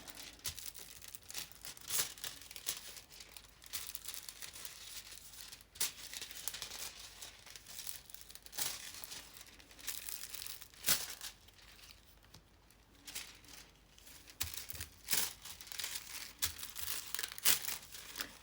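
Gold craft foil being crumpled and rubbed onto a paper piece, a continuous crinkling rustle with sharper crackles throughout, fairly close and alone.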